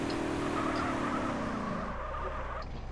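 Car engine roaring steadily with a sustained tire-skid squeal as a car drifts in GTA San Andreas multiplayer (SAMP), loud and continuous, easing off near the end.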